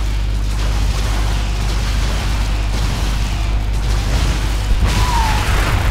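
Loud, dense rumbling explosions and booms from StarCraft II as defensive turrets are destroyed during a base attack, a continuous roar of battle effects with no quiet gaps.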